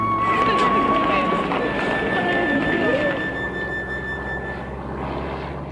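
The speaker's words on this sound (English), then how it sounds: "The inhabitants of Paris watch a squadron of German reconnaissance planes fly over" German reconnaissance planes of the Second World War fly over Paris, a steady droning engine roar with a shifting tone heard loud and continuous under someone narrating.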